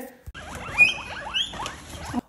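Pet guinea pigs in a small home farm squeaking eagerly while waiting to be fed, a rapid run of high, rising whistling squeaks close by with no talk.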